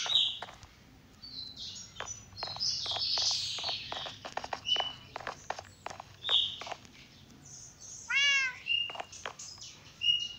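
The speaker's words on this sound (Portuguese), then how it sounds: "Não esquece esses gatos miando." Several cats meow indoors at a house, cries scattered over the span with chirpy calls and clicks between them, one drawn-out meow standing out near the end, moderately close and unhurried.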